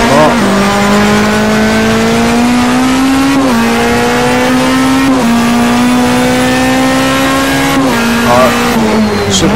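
A DTM race car engine in a racing game at Hockenheim drones steadily at high revs, its pitch climbing and dropping with gear shifts, with occasional brake and transmission whines on top.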